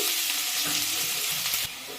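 Chopped onion, half a portion, sizzling in leftover oil from frying bitter gourd in a pan, a loud steady hiss with light stirring scrapes, close and without voices, dropping slightly at the end.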